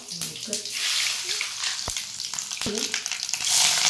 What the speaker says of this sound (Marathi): कढीपत्ता, जिरी, मोहरी, कढीपत्ता आणि मस्त कांदा ते फ्राय करून घ्यायचं छानपैकी तेलात